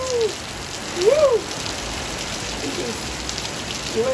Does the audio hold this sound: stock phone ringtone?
no